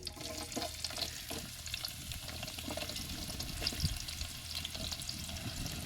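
Onions fry and get stirred in a pan while cooking chicken biryani, giving a dense, continuous sizzle with scraping stirs throughout, close and fairly loud with no talking.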